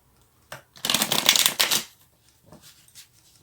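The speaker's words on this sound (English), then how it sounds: "I know you cannot see me shuffle" Close, crisp riffling of tarot cards in one long burst, followed by a few softer taps and slides as the deck is squared up.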